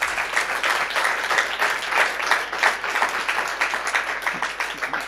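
Audience at a music and physics lecture demonstration clapping steadily, a dense and loud applause that fills the whole stretch without talk.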